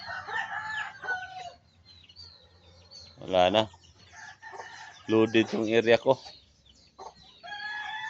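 Roosters crow loudly in close bursts, with hens clucking between them while a person talks briefly.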